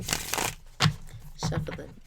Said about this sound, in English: We're going to give the Divine Feminine a little shuffle here.